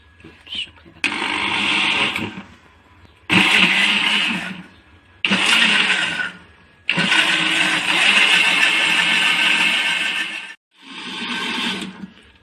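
A kitchen blender whirs loudly in several long bursts with short pauses between them while blending homemade condensed milk, and a voice speaks briefly between runs.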